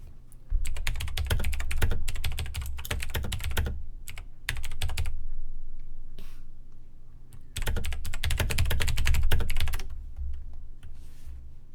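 Rapid, continuous typing on a computer keyboard during a Dota 2 game, loud and close, in dense bursts of clattering keystrokes separated by short pauses.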